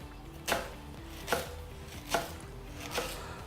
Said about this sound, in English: that's leek. And then I'll just chop